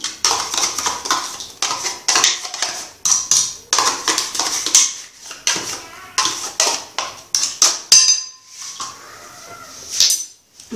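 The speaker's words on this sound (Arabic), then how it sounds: "نخلط المكونات شويه." Quiche ingredients for a chicken quiche being mixed in a bowl, with yogurt among them: a quick run of close clinks and scrapes, a utensil knocking against the bowl in steady bursts with brief pauses between.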